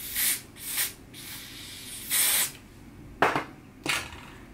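Hair spray hisses out of a can in about six short bursts of varying length, close and clear, while natural edges are being styled, with quiet pauses between sprays.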